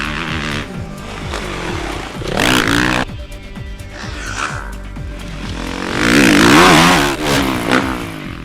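A 2012 Suzuki RM-Z450 motocross bike on a dirt track, its engine loud and close as it revs up and down in repeated bursts, with raspy acceleration and throttle dips.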